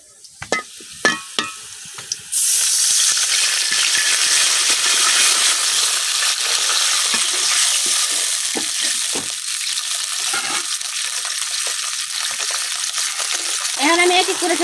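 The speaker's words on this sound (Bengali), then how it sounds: "এখন আমি পেঁয়াজের মধ্যে একটু পানি দিয়ে দিতেছি।" Fried onions hiss into a loud, steady sizzle as a little water hits the hot pan while cooking a sponge gourd and puti fish curry, with a few clinks and stirring scrapes before the burst and throughout.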